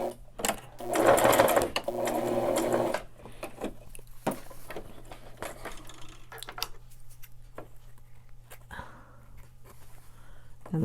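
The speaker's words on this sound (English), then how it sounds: "So now I go down, back stitch a little bit, just the center." A sewing machine stitches a three-layer fabric face mask, whirring in a loud sustained burst near the start, then quieter short runs and small clicks of a brief back stitch through the center.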